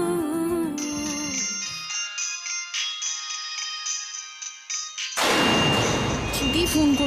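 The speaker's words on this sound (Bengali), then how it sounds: "দিদি ফোন করছে কেন আবার?" A mobile phone rings with a melodic ringtone during a Kannada TV serial scene, repeating its tune clearly before a sudden loud, dense burst of sound takes over near the end.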